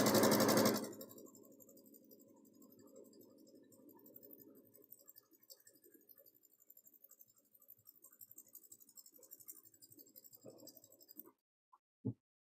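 A sewing machine stitches a seam on a table runner, a steady fast whirring run close by after a brief loud burst at the start, then stopping with a couple of clicks.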